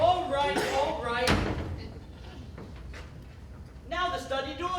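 A door slams once with a sharp, loud bang, set between stretches of people talking.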